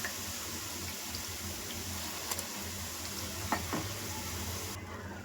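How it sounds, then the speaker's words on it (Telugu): Onion bajji frying in hot oil until golden, with a steady close sizzle and bubbling that runs throughout at even loudness, broken by a few small clinks. "సెకండ్ టైం వేసినా కూడా మంచిగా ఇలా గోల్డెన్ కలర్ వచ్చేంత వరకు వేయించుకోవాలి"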